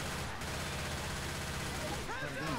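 Gunfire in Left 4 Dead 2 comes as a dense, continuous burst of rapid shots under game noise, with a voice speaking partway through.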